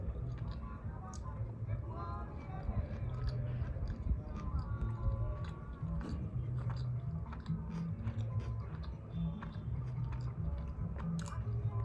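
Close-up chewing of pizza during a mukbang-style meal: moist, continuous biting and mastication sounds with soft squishes and light crunches, with a voice faintly present underneath.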